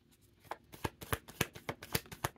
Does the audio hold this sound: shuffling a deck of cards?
yes